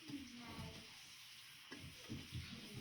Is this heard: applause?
no